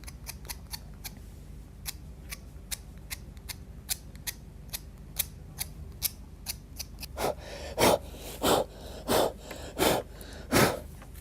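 Craft knife scraping Derwent Inktense pencil lead over a wet paper area, a run of quick crisp scratches, then several louder breathy puffs blowing off the loose shavings near the end.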